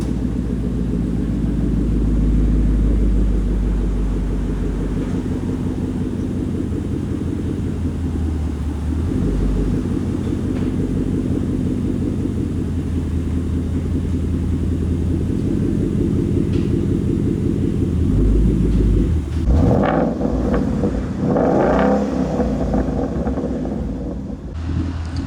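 A 2013 Ford Mustang idles on a Roush axle-back exhaust with a steady, deep rumble that runs throughout, followed by a brief burst of louder, rougher revving near the end.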